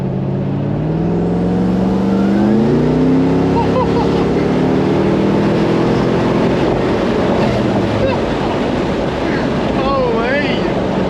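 A four-wheel drive with a carbureted Toyota 3F engine accelerating hard and taking off: a loud, steady engine roar rising in pitch through the gears, heard from inside or close by, with heavy wind buffeting throughout.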